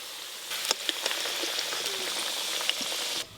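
Food being deep-fried in hot oil until reddish-brown, a steady, close sizzle with scattered crackles and pops that stops abruptly at the end.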